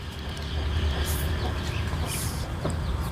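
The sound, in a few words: chicken clucking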